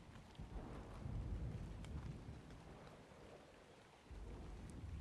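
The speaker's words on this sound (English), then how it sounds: "And the rain's going to start again." Steady rain with deep rumbling thunder in Ark: Survival Ascended, falling over the ocean by a harbour build; a continuous, fairly loud wash with low rolls swelling and easing, no talk over it.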